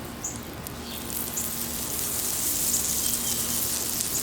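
Butter and oil sizzling on a Blackstone griddle set to medium-high beside a cooking ribeye steak, a steady hiss that holds at an even, moderate level throughout.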